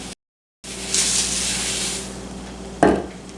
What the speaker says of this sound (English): Let's add the corn flakes.